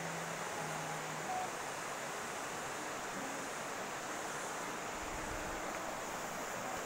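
River water rushing steadily below a hanging bridge, a continuous broadband roar of flowing current over large rocks, close and loud with no talking.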